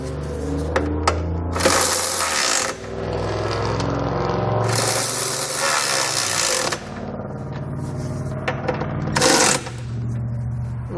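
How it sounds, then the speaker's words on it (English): A 17mm socket wrench snugging down the bolts on a Curt trailer hitch receiver on a 2019 Hyundai, bursts of loud power-tool whirring between quieter stretches of clicking and metal scraping, no speech. "you want to grab a 17mm socket and go through and snug all the bolts down."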